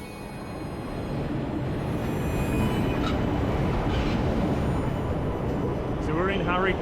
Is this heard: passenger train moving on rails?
yes